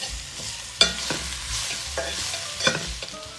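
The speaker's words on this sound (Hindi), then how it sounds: "अब ऐड करेंगे लहसुन अदरक।" Garlic and ginger fry in hot oil in a pan for a chicken korma, with a steady sizzle and sharp scraping knocks of a spoon stirring, close and without talk.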